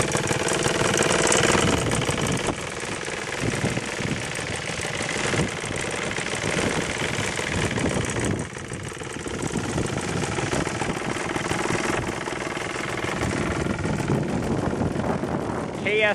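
3W110CS two-stroke engine with KS cans and 13.5-inch headers, running on a 40:1 fuel mix, idles with a steady, rough, loud mechanical drone throughout, while someone talks over it.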